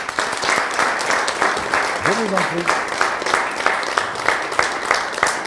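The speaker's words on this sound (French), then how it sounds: "on peut vous applaudir" A conference audience breaks into sustained applause, dense and steady throughout, while someone speaks briefly over it midway.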